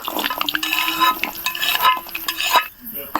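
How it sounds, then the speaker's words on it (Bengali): Garlic and dried chilies frying in hot bubbling oil, busy crackling and popping sizzle with stirring scrapes, close and loud, easing off briefly near the end. "রসুন দেওয়ার সঙ্গেই দেখুন তেলটা উতলানো শুরু করছে চুল ঝালগুলো দিয়ে দিব"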